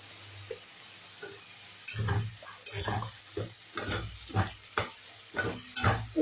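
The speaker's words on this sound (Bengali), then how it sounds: "পেঁয়াজটা ভাজা ভাজা হয়ে এসেছে" Onions frying in a pan while a Shahi red paneer dish is being cooked, with repeated stirring scrapes and soft sizzling bursts at a steady, close-up rhythm, no talking.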